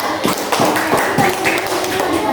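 Schoolchildren in a classroom clap for their group leader, a brisk patter of close claps with a few heavier thumps, overlapping with chatter from the class.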